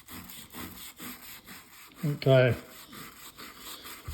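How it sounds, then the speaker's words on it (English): A stiff bristle brush scrubs the white wall of a Harley tire in rhythmic back-and-forth strokes, close and steady, with a brief louder scrape midway and a short spoken word over it. "So I'm agitating it with the wire. It's not a wire brush, it's just a stiff brush."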